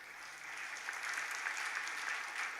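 Steady applause from an audience at a Jain religious discourse in a temple courtyard, a continuous dense patter of many hands clapping at even loudness for the whole stretch.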